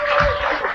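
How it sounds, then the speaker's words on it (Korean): Brief burst of audience applause at an outdoor culture festival stage in Cheonan, a short loud patter of clapping after a musical performance. "말씀드리지 않아도 이렇게 자연스럽게 박수 쳐주시고 감사합니다."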